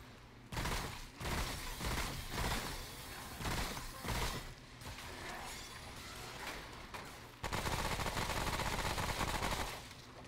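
Rapid bursts of automatic gunfire ring out from a weapon in Remnant: From the Ashes during a treetop boss fight, with loud, dense volleys broken by brief pauses and sharp shattering impacts.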